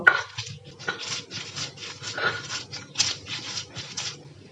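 Boiled jackfruit seeds and dried fish are ground on a stone slab, a rhythmic series of rough scraping, rasping strokes, close and moderately loud, alone without talking.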